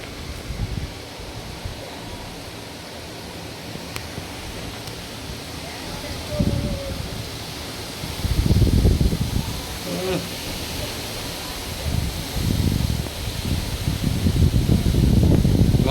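Strong wind during Cyclone Remal in Pabna, Bangladesh, roaring in broad, noisy gusts that swell and build toward the end, buffeting the microphone, with a few faint voices under it.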